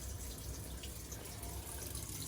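Cold mains water rushes steadily through a domestic central heating pipe with the filling loop open, a faint, continuous hiss-like flow with no break and no voices.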